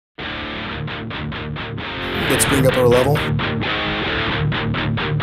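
Distorted electric guitar playing a chugging metal riff through a Rivera Rockcrusher, with a heavy bottom end, loud rhythmic palm-muted bursts growing fuller midway, with someone talking briefly at the start.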